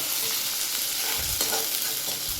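Sliced onion sautéing in a thick kadai, a steady close sizzle with stirring scrapes and soft low knocks throughout, no voices.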